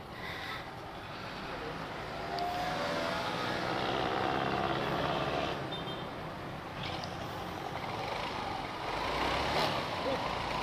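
A motorcycle engine idles steadily at low revs while the idle mixture screw is adjusted, a continuous rumble at moderate distance with a few faint clicks and people talking nearby.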